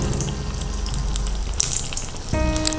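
Spinach parcels frying in oil, a steady close crackling sizzle that runs throughout, with a tonal hum entering near the end.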